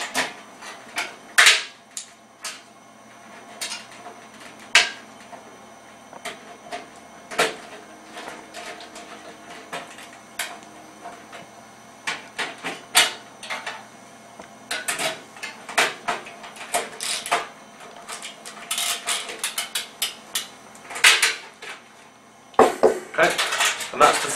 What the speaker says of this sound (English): all I'm literally going to do now is just tighten this up using my 8mm socket and a Phillips screwdriver